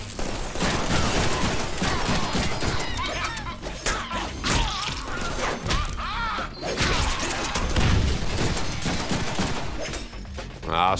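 Gunfire in the Deadpool action video game, a dense, continuous barrage of loud shots and impacts layered with game effects and music across the whole stretch.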